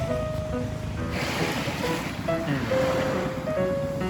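Sea waves wash onto a sandy beach at Cha-am in Thailand, a steady broadband surf roar with wind noise on the microphone throughout and faint tonal hums in the background.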